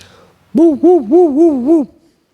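A man imitates a Doberman barking with his voice, producing five rapid wavering howl-like yelps in a quick regular sequence, close and loud after a quiet start.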